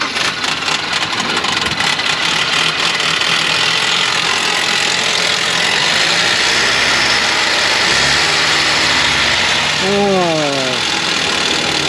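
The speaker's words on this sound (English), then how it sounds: "Fairly new Ford Escape, we think it needs an engine." A fairly new Ford Escape suspected of needing a new engine runs loudly in a repair shop, a rough continuous drone that rises in pitch as it revs near the end, with people talking over it.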